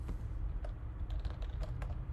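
Steady typing on a computer keyboard while entering a search for images of a person with acne: a continuous run of close, quick key clicks with no talking.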